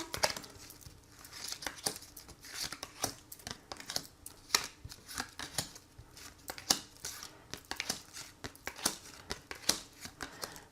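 Thirteen oracle cards are handled and drawn from a deck, giving close, quiet papery shuffles, flicks and crinkles in irregular bursts with no voice over them.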